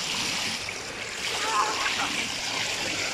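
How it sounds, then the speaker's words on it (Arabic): Water from a waterfall at a seaside spot crashing down hard into a pool, heard as a steady, broad roaring rush with no breaks, moderately loud and continuous. "فيها كميه الميه بتاعتها بتنزل بقوه جامده جدا"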